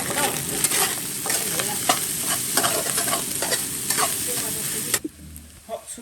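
Chili fried rice with Sichuan peppercorns sizzles loudly in a wok while a spatula scrapes and clanks rhythmically, then the frying drops away abruptly near the end as a voice speaks briefly.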